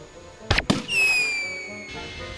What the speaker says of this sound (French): Sabre de bois, un feu d'artifice. Une fusée de détresse?